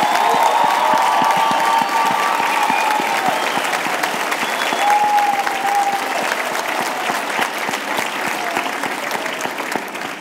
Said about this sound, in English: Let's have another round of applause for all of our promoters today.